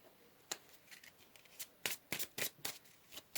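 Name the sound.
tarot cards being picked up and shuffled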